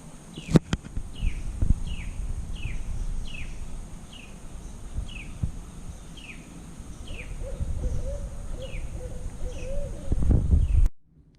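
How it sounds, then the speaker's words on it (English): A barred owl hoots repeatedly at a regular pace from a distance in the trees, layered over evening outdoor ambience with insects and birds, and a low rumble near the end. "there is a barred owl calling out there in the trees"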